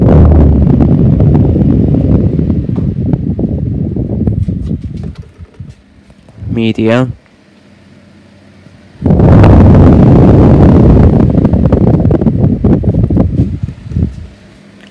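A noisy 1995 Duracraft 7-inch desk fan runs slower than it should, giving a close, breathy whoosh and rattle that stops briefly and then returns at full strength.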